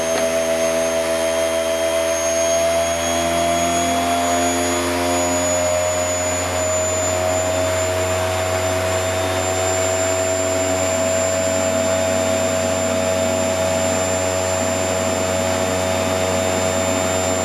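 Aircraft DC starter-generator spinning on a test setup near 6,000 RPM, a steady loud whine with stacked tonal harmonics and a faint high tone creeping upward as speed increases, constant broadband rush underneath, no talking.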